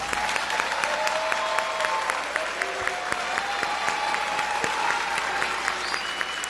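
Sustained applause from a large crowd at a college graduation ceremony: a dense, continuous wash of many hands clapping, steady and fairly loud throughout, with no talking over it.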